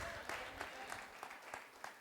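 A church congregation claps in praise during a sermon, a steady, moderately quiet patter of many hands with regular louder beats, heard without talk over it.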